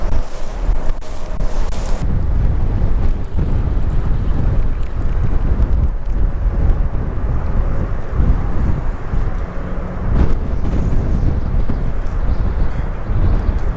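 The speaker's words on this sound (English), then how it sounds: "Cause yeah, it's still windy." Strong wind buffets the microphone in a constant low roar, with heavy rumbling gusts throughout, during spring bank fishing.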